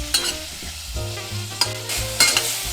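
Pork belly fries over a very low flame in a pot with a little oil as its fat renders, giving a close, continuous sizzle with a few brief louder crackles.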